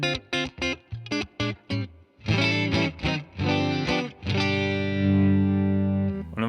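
Clean electric guitar tone from a single-coil front pickup through a Fender Deluxe Reverb and an AIWA RB1011 MKII preamp: short plucked notes, then strummed chords ringing out into a long sustained chord.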